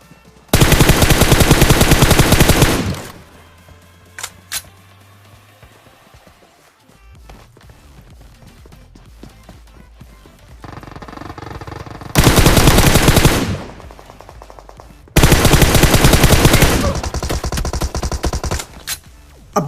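Bursts of sustained automatic gunfire in PUBG Mobile, loud and dense, come in three long volleys with quieter game ambience and scattered single shots between them.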